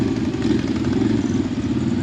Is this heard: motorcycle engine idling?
yes